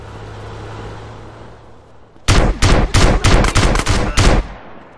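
Gang war gunfire in GTA San Andreas: after a quiet idling hum, a volley of about ten sharp, loud shots bursts out in quick irregular succession, close and punchy, then stops.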